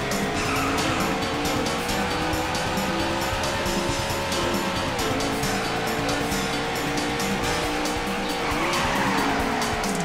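Tires squeal and skid continuously as a car drifts in a racing video game, the engine roaring loudly throughout with long sliding screeches and no talk on top.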